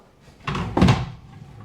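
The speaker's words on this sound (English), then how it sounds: "Drawers, drawers." Drawers in a luxury hotel room in Almaty being pulled open, two quick wooden slides and thumps close together at moderate volume, over a faint room hum.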